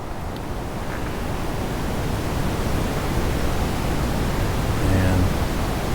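A waterfall pours in a constant, loud broadband roar, steady and unbroken the whole time, heard up close with no other clear sounds above it.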